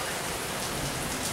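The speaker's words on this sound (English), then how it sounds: "here on this rainy afternoon" Steady rain falls on a rainy afternoon in Louisiana, a dense, continuous hiss of drops spattering on surfaces, close and even throughout with no pauses or voices.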